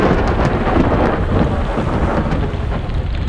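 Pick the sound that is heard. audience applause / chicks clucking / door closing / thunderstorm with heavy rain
thunderstorm with heavy rain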